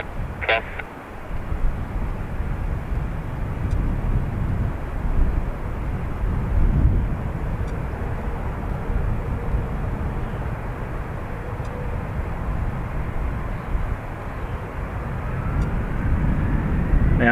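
A jet airliner rolls and climbs away from a Dublin Airport runway, a loud, steady engine roar that holds throughout with no voices.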